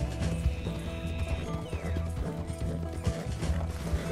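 Rapid rhythmic hoofbeats of a galloping horse with a whinny in the video game Red Dead Redemption 2, game-like sound effects against a busy background.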